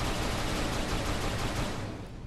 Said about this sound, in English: Would you just stop shooting?